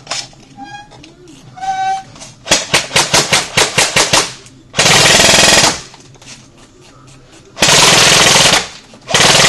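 Echo1 MTC airsoft gun with a runaway fault firing: a rapid chattering burst of shots, then two long loud sustained full-auto bursts separated by a short pause, close to the listener.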